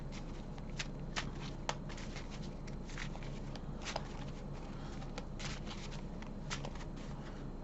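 A deck of playing cards is shuffled close by, a dense riffling patter broken by sharp flicks, continuous and fairly quiet for several seconds with no talk over it.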